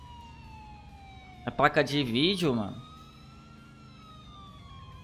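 An ambulance siren in the video game GTA 4 wails steadily in the background throughout, its tone slowly sliding, while someone talks briefly over it in the middle.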